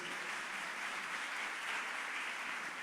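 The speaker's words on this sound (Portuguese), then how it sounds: "Uma salva de palmas para vocês." A church audience applauds in a continuous, even wash of clapping, loud and steady throughout the short stretch with no speech over it.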